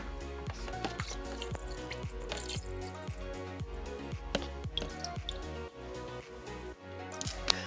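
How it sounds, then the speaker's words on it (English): Water is poured into a 5 gallon Fluval Spec V aquarium, a close, continuous run of splashing and dripping with bubbly pulses throughout. "time to add even more water"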